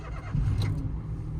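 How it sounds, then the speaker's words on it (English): A 2009 Citroen C1 VTR's small three-cylinder engine cranks and catches in a brief, low rumble close by, settling quickly into a faint idle. "I'll start it up. It's a 3-cylinder engine,"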